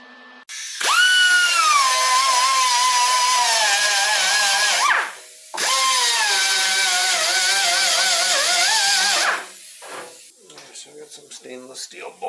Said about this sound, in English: get the weapon out, fire up the compressor, and ream those holes out